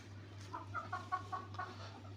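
A rooster kept with a backyard flock of hens gives a short series of soft, low clucks, faint against a steady electrical hum.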